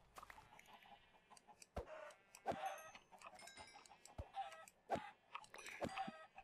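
Minecraft chickens clucking in a farm pen: short, soft, scattered clucks and squawks repeat at irregular intervals, with faint sharp clicks and no talking.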